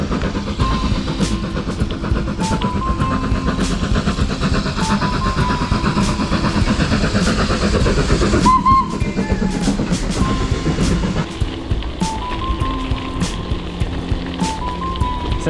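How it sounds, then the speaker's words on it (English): Steam train passing in the Peak District countryside, a steady loud rumbling clatter of rolling wheels throughout, with a couple of brief high whistle-like tones partway through. "Just in time for a steam train."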